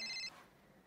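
A mobile phone ringtone chimes briefly, a bright electronic tone that cuts off after a fraction of a second, leaving quiet room noise.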